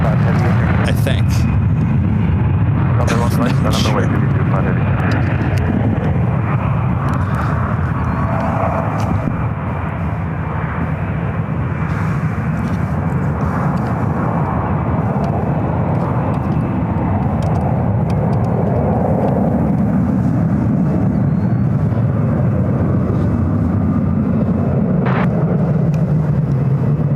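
An airliner departing San Francisco International Airport gives a loud, sustained roar of jet engines at takeoff power, with wind and background rumble throughout.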